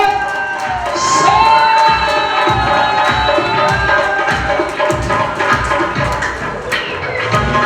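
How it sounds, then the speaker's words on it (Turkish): Guests at a Turkmen wedding toy cheer, whoop and shout in a loud, continuous crowd roar with children's voices and rhythmic clapping, while festive music plays underneath. "Alkışlar olsa"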